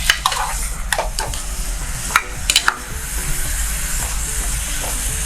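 Beef sautéed in a pan, a steady close sizzle and hiss with intermittent scraping stirs and clacks of a utensil against the pan, no voices.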